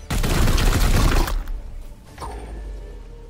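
A loud burst of sustained gunfire from the video game Warhammer 40k: Chaos Gate Daemonhunters rattles for over a second, then cuts off into quieter game ambience with a few faint clicks.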